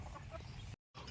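Hens clucking on a poultry farm, several birds close by in a short burst of overlapping clucks, cut by a brief silence before more clucking resumes.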